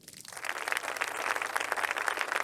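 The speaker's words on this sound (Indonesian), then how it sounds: "Mari kita sambut dengan tepuk tangan" An audience applauds to welcome an antique appraisal expert to the stage. Dense, steady clapping from many hands swells up quickly and carries on evenly, with no voices over it.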